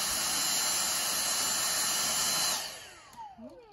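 A vacuum cleaner runs loudly and steadily while cleaning the back of a fridge, its roar cutting off after a couple of seconds and winding down with a falling whine.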